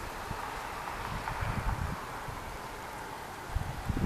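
Outdoor wind blows as a steady broadband rush with soft gusty swells and light rustle, moderately loud and continuous throughout, with no voices.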